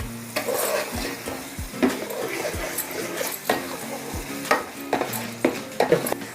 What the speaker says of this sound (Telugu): గోల్డెన్ బ్రౌన్ కలర్ వచ్చే వరకు ఉల్లిపాయ పేస్టు తిప్పుకోవాలి